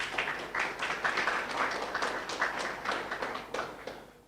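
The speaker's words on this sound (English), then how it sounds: "Another round of applause." Audience clapping at a student debate event honouring a judge, a moderate crowd whose claps come in uneven bursts and pulses, fairly close and fading out at the end.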